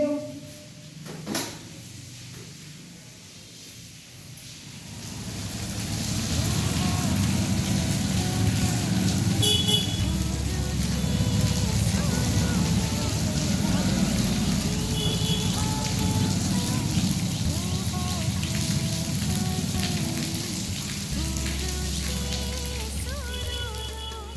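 Heavy rain pours steadily on surfaces nearby after a quieter opening, a dense hiss that continues to the end, with a few knocks and scrapes mixed in.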